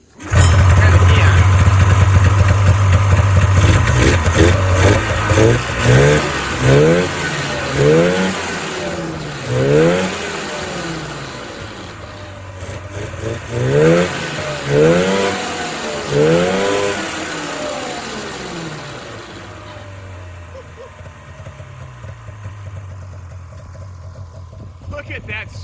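A Polaris four-stroke snowmobile engine cranks, fires and runs, then revs repeatedly in rising and falling bursts that settle back to a rough idle. It is loud and close, with occasional talk.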